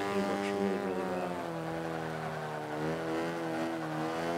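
Mini Cooper S racing in Forza 5, D class: a steady, droning in-game engine note with layered harmonics that rises and falls slightly, continuous and prominent with no talking.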